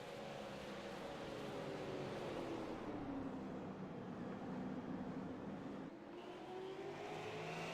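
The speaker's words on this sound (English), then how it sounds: "See Edwards losing a little bit of time in the center, having to wait for the car to cut on it for him" Stock race cars roaring around Martinsville Speedway in a SARA SMS Super Series race, engines droning and shifting in pitch as they pass, a continuous distant-to-near rumble with no talk.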